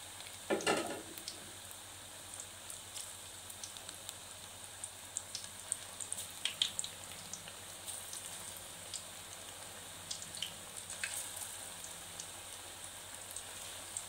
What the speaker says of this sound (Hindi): अब हम इनको फ्राई कर लेते हैं।